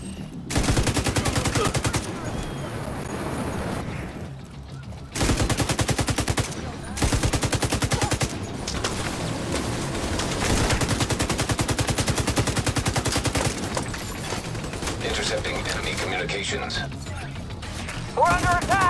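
Loud, sustained automatic gunfire in the video game Tom Clancy's The Division 2, set at the National Zoo, with long bursts of machine-gun fire, brief pauses and shouted voices over the din.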